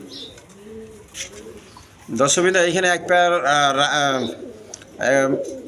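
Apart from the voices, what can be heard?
Giribaz pigeons cooing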